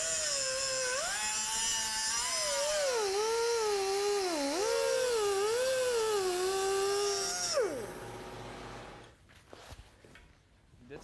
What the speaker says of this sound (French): J'utilise donc une petite meule à air comprimé.